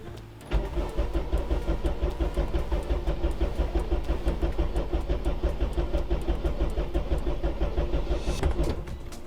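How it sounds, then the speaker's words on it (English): Honda Civic EG with a K-swapped engine cranking in a steady rhythmic chug for several seconds before catching and firing up near the end, loud and close. "after a little bit of cranking, it obviously clears that oil back out of the cylinders. We get it fired up"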